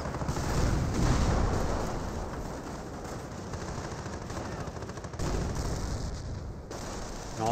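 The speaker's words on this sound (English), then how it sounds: "That looks like at least two, maybe three there, firing that barrage" An artillery barrage in the World War II strategy game Company of Heroes: dense, sustained volleys of loud gunfire and booms rolling on without pause, heavy and close throughout.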